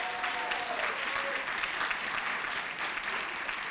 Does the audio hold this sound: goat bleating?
no